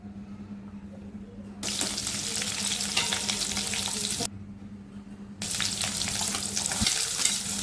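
Green chili pieces dropped into hot oil in a pan, a loud sizzling hiss that starts abruptly, cuts out briefly, then resumes and continues steadily, with a low hum underneath.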